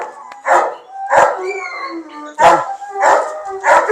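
A dog gives loud, close barks and yips in an uneven rhythm, with drawn-out howling notes between them.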